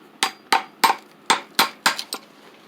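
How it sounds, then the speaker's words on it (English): A chisel is driven into the wood of a rustic stump seat with seven sharp, ringing strikes at a quick, fairly even pace, each decaying fast, heard close with no talk. "I'm going to have to take a chisel and carve this out on the inside"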